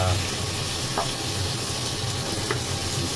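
Tomatoes and onions frying in a pan as they soften, a steady close hiss and sizzle that carries on throughout, with a voice faintly underneath.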